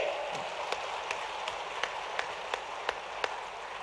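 Dense crowd applause fills an outdoor political rally for Chief Minister Shivraj Singh Chouhan in Sheopur, steady and wide, with sharp claps popping out at a regular beat above the wash.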